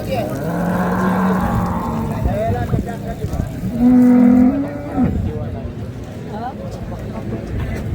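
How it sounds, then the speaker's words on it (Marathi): A cow moos twice, long and low, at a busy cattle, bull and buffalo market in Karad, Satara, with people talking throughout around the animals. "मंडळी तुम्ही गाय बघू शकता"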